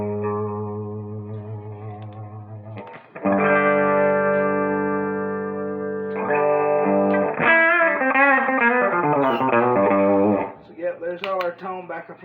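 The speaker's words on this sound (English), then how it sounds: "There's all our tone back in front of the overdrive there." Electric guitar run through an Electro Harmonix Hot Wax overdrive with the clean signal blended back in, playing sustained chords and then a string of bent lead notes, loud and upfront with no talking.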